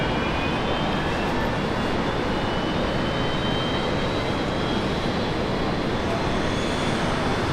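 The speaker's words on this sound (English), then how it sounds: "Qantas A330, runway 19 right, clear for takeoff" A Qantas Airbus A330 jet taking off from runway 19 right at Brisbane Airport, a steady broadband engine roar with a faint high whine, continuous and fairly distant throughout.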